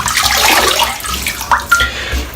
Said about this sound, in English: My brush, I've just flicked the water out.